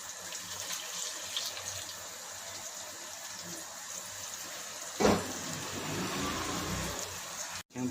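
Hot water pours into a pot of beef in a street-food kitchen, a continuous splashing rush with a brief louder gush partway through and an abrupt cut near the end.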